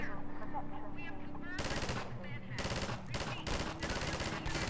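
Rapid bursts of turret machine gun fire from Half-Life 2 during a turret sequence, loud and dense, with a quieter opening stretch before sustained clattering volleys that run to the end.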